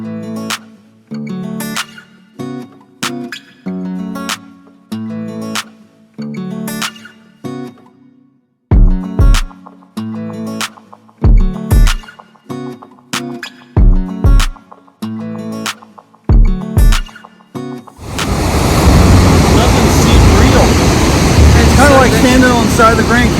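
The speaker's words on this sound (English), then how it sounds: "this Dettifoss is the second largest waterfall in Europe, and the most powerful one here" Dettifoss in Iceland, Europe's most powerful waterfall, roars as a loud, steady wall of broadband noise during the final few seconds, after a stretch of people talking.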